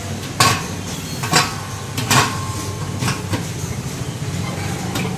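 A ragi flour mill machine grinds with a continuous mechanical roar, broken by regular clanking knocks roughly once a second that fade slightly toward the end.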